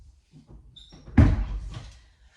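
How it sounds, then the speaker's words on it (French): A single door slams shut in the wind with a sharp thud after a few soft rustles, then the sound dies away into quiet. "on a du vent, les portes claquent"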